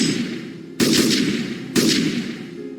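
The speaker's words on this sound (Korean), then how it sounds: "총성은 한층 격렬해지고 있었다." Gunfire in a radio drama set around a small town's bridge and road during a battle, bursts of dense shots cracking in with two sharp onsets, sustained and rolling as the firing grows heavier.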